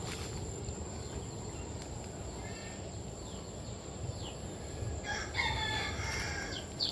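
Native chickens and a Cornish bantam rooster crow outdoors, a steady crowing with clucks over a constant buzzing insect-like background, growing louder and busier toward the end.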